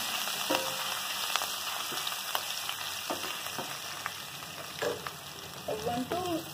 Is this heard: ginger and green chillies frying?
yes